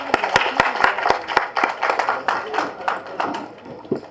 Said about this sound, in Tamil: நல்லா கைத்தட்டுங்க.